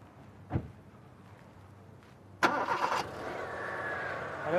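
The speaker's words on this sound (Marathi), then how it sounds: "अरे वा, गाडी सुरू झाली." A car engine cranks, catches and starts, preceded by a single thump; it settles into a steady idle that grows slightly louder.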